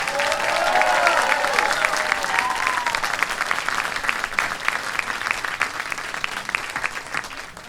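Concert audience applauding a band member, a dense, steady wash of clapping that swells early with a few cheers, then gradually softens toward the end.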